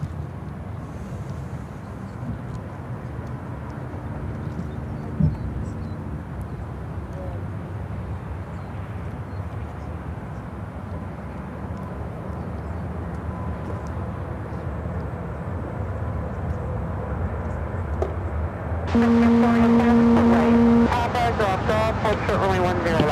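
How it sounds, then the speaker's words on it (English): A Galata Air Boeing 747-400 freighter arriving at Chicago O'Hare from Anchorage gives a low, steady engine rumble that slowly builds. A brief tonal burst sounds near the end, with no voices. "Galata Air 917 coming in from Anchorage on the 747-400 freighter"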